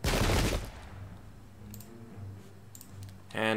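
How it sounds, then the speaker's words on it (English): A musket volley fired in the Pike and Shot Campaigns video game: a loud, crackling burst of gunfire at the start that drops off quickly, a quiet stretch, then another sharp burst of shots at the end. "So we'll just shoot him."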